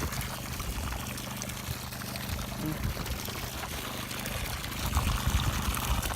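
Water from a solar-powered well pump pours steadily into a bucket, a continuous splashing stream running the whole time and growing slightly louder toward the end.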